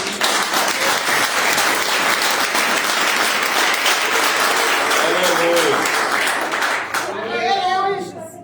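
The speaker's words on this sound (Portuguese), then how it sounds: "Você pode aplaudir Jesus?" Church congregation applauding during a Portuguese-language service, loud continuous clapping from many hands that fades near the end as voices and speech take over.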